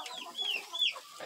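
Chickens cluck near a rooster on a small farm, with short rising and falling calls close by.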